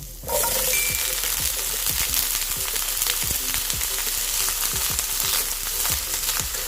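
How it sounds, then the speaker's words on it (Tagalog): Potatoes and carrots fry in hot cooking oil in a pan, a steady close sizzle running throughout, with regular light clinks and taps as they are stirred, no voices. "pa-fried muna natin yung ating patatas at saka yung carrot. Guys, ilalagay na natin."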